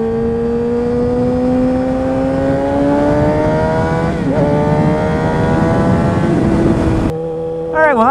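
Kawasaki ZX6R sport bike with an aftermarket exhaust, heard loud and close while riding: a steady engine drone rises slowly in pitch, briefly dips around the middle, then drops sharply near the end before revving again.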